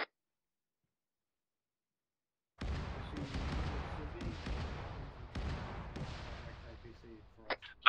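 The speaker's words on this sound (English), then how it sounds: "Ears on, mortar fire." Mortar rounds in a squad-based military video game land as a series of deep, muffled booms and rumbles after a couple of seconds of silence, with people talking over them.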